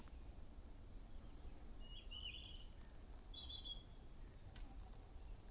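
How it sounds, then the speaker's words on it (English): Faint bird chirps and short calls scattered over a quiet, steady low background rumble, no voices, on Brownsea Island, Dorset, near the sea. "Literally just bird song."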